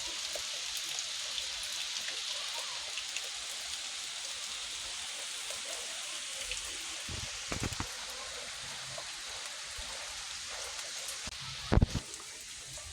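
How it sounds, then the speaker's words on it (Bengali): Gentle rain falls outside a window, a soft steady patter with scattered nearer drips and one sharper knock toward the end, fairly faint throughout. "খুবই সুন্দর বৃষ্টি হচ্ছে আর এটা দেখতে আমি ভীষণ ভালোবাসি"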